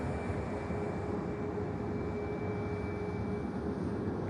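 A Swiss Airbus A220 taxiing at Manchester Airport gives a steady, continuous engine roar with a faint high whine, unchanging and moderately distant, with no voices.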